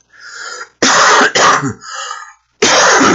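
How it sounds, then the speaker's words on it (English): Several harsh, raspy coughs come in quick bursts, one after another, close and loud, with short pauses between fits. "so you'll have to excuse the coughing"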